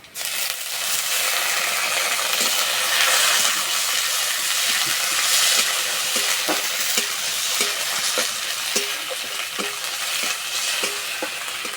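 Ginger-garlic paste fries with browned onions in a pan, a steady loud sizzle broken by regular scraping strokes from a spoon or spatula.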